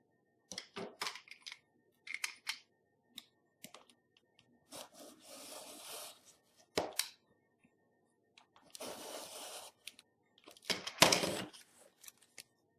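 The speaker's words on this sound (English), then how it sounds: "I'm cutting another 1-inch strip." Scissors cut a 1-inch strip from a recycled carton in short snips and longer rasping slices, quiet and close, separated by brief pauses.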